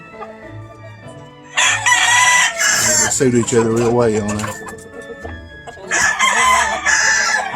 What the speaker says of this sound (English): That's a pure Gleason white hackle hen and a Morgan white hackle cock.